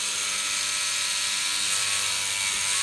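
Rubbermaid power scrubber brushing grime off a surface, a continuous whirring buzz with bright hissy scrubbing noise, steady and close, no speech.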